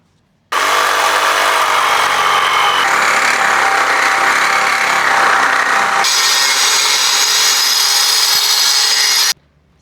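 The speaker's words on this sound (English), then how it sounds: "if any of you are ever gonna cut anything with an angle grinder" A Ryobi angle grinder cuts into a metal chopper mount on a Yamaha XS650 chopper build: a loud, steady grinding whine runs almost unbroken for about nine seconds, turning harsher and brighter partway through before it abruptly stops.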